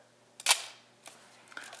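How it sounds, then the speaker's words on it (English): A Nikkormat FTn film SLR fires its shutter at 1/1000 second, one sharp, loud, crisp mechanical snap up close, then a couple of faint clicks as the camera is handled, with no talking. "And that sounded like a fast shutter."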